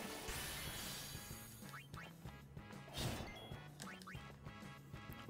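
Cartoonish duck quacks sound over busy Final Fantasy X game music, with a few sliding effect tones and a thump partway through.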